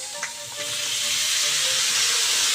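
Soy sauce poured into pork belly sautéing in a pan bursts into a loud, steady sizzle and hiss that builds and holds close by.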